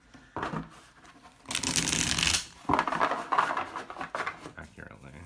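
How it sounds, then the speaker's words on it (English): Tarot deck being shuffled by hand, quiet papery riffles and rustles in uneven bursts, with one louder flurry in the middle, close to the mic. "I'm actually trying to shuffle it fairly"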